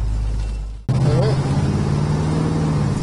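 A 1969 Chevrolet Chevelle with power steering and power brakes starts moving after a brief quiet moment, and a steady engine hum and road rumble from inside the car continue to the end.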